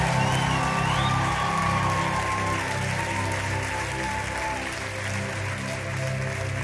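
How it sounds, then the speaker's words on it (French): Audience applause at a Christmas stage show, sustained clapping from a crowd throughout, with a low musical drone and faint tonal glides underneath. "Un tonnerre d'applaudissements, s'il vous plaît."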